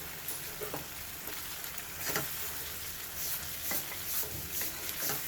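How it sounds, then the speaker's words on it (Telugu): Masala with coriander powder frying in a pan and stirred repeatedly, rhythmic scraping strokes over a low continuous sizzle, close and moderately quiet. "అర చెంచా ధనియాల పొడి వేసుకొని కలగెట్టుకోవాలి"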